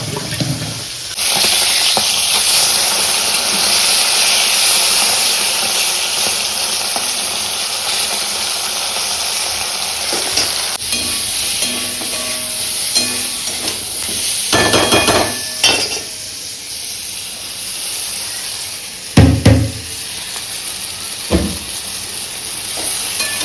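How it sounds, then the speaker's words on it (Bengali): Water poured into a pot while cooking rohu-style bata fish at home, a continuous steady hiss and rush running throughout with a few sharper clinks near the end, no voices. "দিয়েছি জল ঢেলে"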